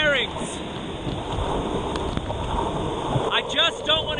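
A heavy thunderstorm with rain pours down steadily outdoors on a skateboarding rain day, a dense, loud wash of rainfall that runs throughout, with faint whistling tones near the end.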